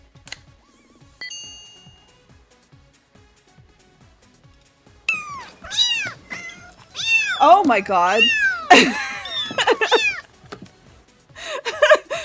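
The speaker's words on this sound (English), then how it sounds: "I heard cats and I forgot that was my raid." Stream raid alert of cats meowing, several high, bending meows in quick succession after a short chime, loud and close, with a person exclaiming briefly over it.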